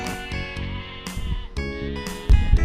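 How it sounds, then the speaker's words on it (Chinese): Pet sheep on the Dingle Peninsula coast bleating loudly and close, several overlapping calls in quick succession with no talking. "好多绵羊，对不对"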